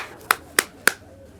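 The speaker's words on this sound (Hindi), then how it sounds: "तालियां।" Three sharp, evenly spaced claps ring out close by in a comedic stage performance, each a crisp isolated hit followed by quiet.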